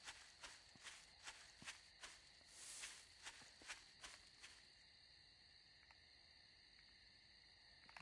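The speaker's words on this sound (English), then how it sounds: "I thought I heard footprints." Footsteps in the video game 7 Days to Die thud at an even walking pace for about four seconds, followed by a pause filled with a steady chirr of crickets and insects, all fairly quiet with no speech.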